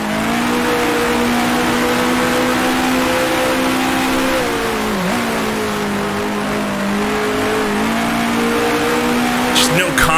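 A 1966 Formula One car roars through its engine note in Grand Prix Legends at the Syracuse Grand Prix, a steady loud drone that dips in pitch midway as it drops gears, with a brief sharp burst near the end.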